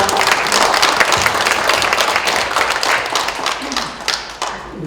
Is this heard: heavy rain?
no